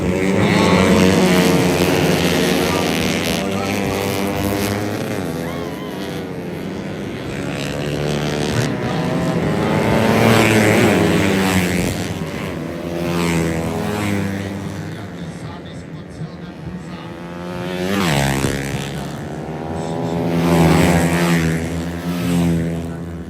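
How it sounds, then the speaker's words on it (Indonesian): Racing motorcycles in the 130 cc underbone (bebek) class roar past on the Rantetayo road race circuit in Tana Toraja, engine whines rising and falling in waves over continuous commentator talk. "perhatikan pembalap dengan kendaraan atau motor berkapar berwarna biru kali ini Rinaldi Tunapa begitu hebat bermain"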